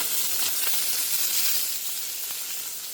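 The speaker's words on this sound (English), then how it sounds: "And then let those sear for a minute." Duck pieces laid skin side down in a hot pan sear with a steady, close sizzle and hiss that holds across the whole stretch, with faint pops and no voices over it.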